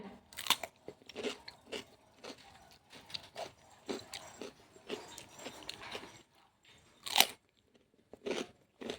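Someone bites and chews salted cucumber, producing loud, crisp crunches in uneven bursts with brief quiet gaps between mouthfuls, close to the ear.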